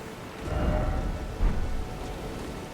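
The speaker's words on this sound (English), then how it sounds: "It's raining." Rain and thunder in a video game, a steady hiss of rainfall with low rumbling thunder swelling twice, fairly close and moderately loud, with no voices present.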